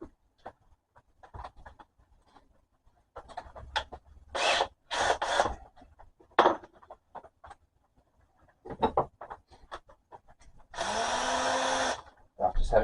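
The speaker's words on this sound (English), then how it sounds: "I'm going to drill a pilot hole now because I need to just drill a hole through" A drill bores a pilot hole through a metal lathe frame rail in a workshop, with a few short bursts and one longer steady run, broken up by talk between them.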